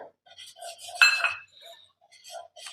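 A utensil clinks and scrapes against a bowl while gram flour is stirred into buttermilk for khandvi, giving a few light taps and one brighter ringing clink amid near silence.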